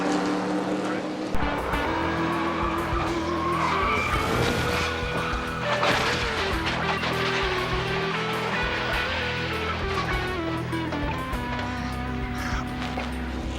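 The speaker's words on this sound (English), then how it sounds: "we see Musgrave's car sliding up against the wall, flames coming from it as he comes across the start-finish line" NASCAR stock cars racing on an oval, one sliding up against the wall and crashing with flames, another slamming into the catch fence; loud continuous engine roar and tire noise with impact bursts throughout, under a busy mix.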